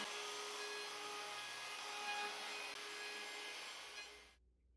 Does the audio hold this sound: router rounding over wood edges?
yes